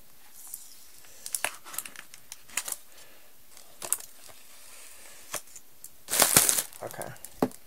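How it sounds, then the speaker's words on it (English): Scissors snip and slit a sticker on a paper-craft package in a series of small, quiet clicks and crinkles, ending in a brief louder rustle of tearing. "I'm going to take my scissors and just slit the sticker"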